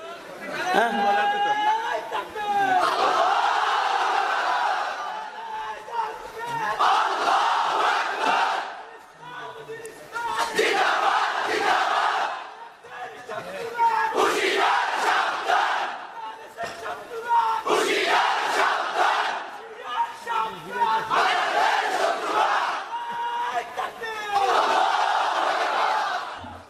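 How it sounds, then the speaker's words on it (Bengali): A large crowd at a Bangla religious sermon (waz) chants takbir together in repeated loud surges, each swell of massed voices rising and falling, with a lone voice leading between the calls. "একজন তাকবীর দেন, সবাই মিলা তাকবীরে কণ্ঠ মিলাইবেন।"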